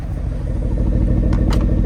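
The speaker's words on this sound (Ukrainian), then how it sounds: "Красиво працює вихлоп, все-таки V8" A Porsche Cayenne S V8 exhaust runs at a steady idle, a close, loud low rumble that holds throughout.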